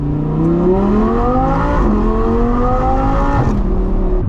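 An Audi R8 V10 with an IPE exhaust accelerates hard on a night drive. The loud, close engine note climbs in pitch through short-shifted gears, with two quick shifts before it pulls again.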